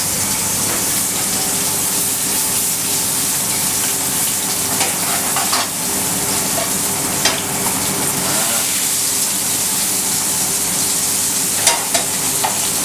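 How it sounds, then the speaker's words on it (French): Almonds and clams sautéing in the same frying pan for a zarzuela in a Biarritz restaurant kitchen: a steady, loud, close sizzle that stays constant, with faint clinks and stirring on top and no one speaking. "Baisser le feu dans la même poêle. On fait revenir les amandes, les palourdes"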